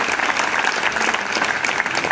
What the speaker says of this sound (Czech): prosím, potlesk, jak pro zbor,